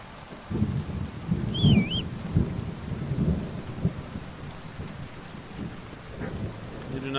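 In a video game storm, thunder rumbles and rolls while steady rain patters throughout, with brief louder crashes near the start and a faint whistling tone overhead.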